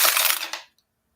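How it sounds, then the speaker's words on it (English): Dice clatter and rattle in a dice roller for a tabletop baseball game replaying the 1930 Cardinals against the 1929 Athletics, a loud rapid tumble that fades out within about two-thirds of a second, then silence. "And we'll need a new dice roll."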